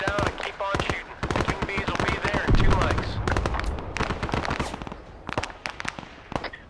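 Rapid gunfire crackles in a firefight in the video game Arma 3: SOG Prairie Fire, with dense bursts of automatic shots and scattered single cracks layered under a busy, loud mix that thins slightly toward the end.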